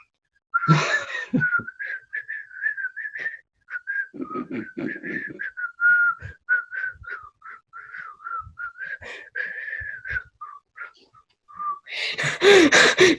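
Someone whistles the bouncy Mickey Mouse steamboat tune of short, rapid notes for about ten seconds, close and clear, with breaths and a few soft noises between phrases.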